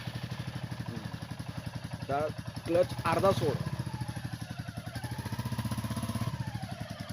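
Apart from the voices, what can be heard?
Royal Enfield Meteor 350 motorcycle engine starting and running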